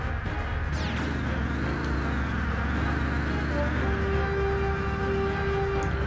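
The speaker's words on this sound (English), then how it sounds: "Wasp noises in my ear." A wasp in the N64 game Body Harvest buzzes steadily and close, its drone rising and falling in wavering sweeps over a constant background hum.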